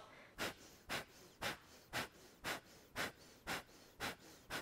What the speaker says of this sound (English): this is a short, sharp exhale out of your nose